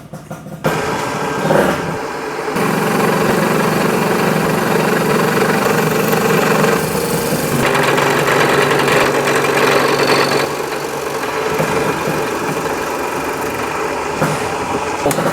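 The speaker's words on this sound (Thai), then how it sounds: "ก็คว้านรอบเดียวได้เลยแบบนี้" A boring machine bores out an engine cylinder in a single pass, a loud, steady mechanical drone with constant vibration that holds for most of the stretch, with slight shifts in tone.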